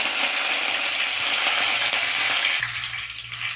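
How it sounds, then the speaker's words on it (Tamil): Mustard seeds and curry leaves sizzle in hot oil for tempering, a loud, steady crackling hiss that quiets slightly near the end. "இப்போ எப்படி தாளிச்சு வருதுன்னு பார்க்கலாம். எண்ணெய் ஊற்றி கடுகு போட்டிருக்குது."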